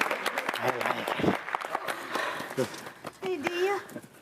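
Applause and cheering from a small group nearby, mixed with lively overlapping voices talking and calling out throughout.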